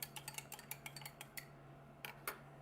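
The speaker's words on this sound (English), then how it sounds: "let me maybe just stir that up a little bit" A spoon clinks against the inside of a glass while stirring orange juice, giving a quick series of light, bright ticks, close and fairly quiet, with a couple of louder taps near the end.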